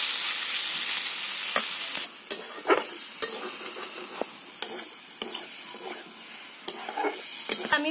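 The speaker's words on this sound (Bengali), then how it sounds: "আলুগুলোকে আমি মশলার সঙ্গে একটু ভালো করে কষিয়ে নিচ্ছি।" Potatoes are stir-fried with spices in a pan for aloo dum, a steady bright sizzle running throughout with repeated sharp scrapes and taps of a spatula stirring against the pan.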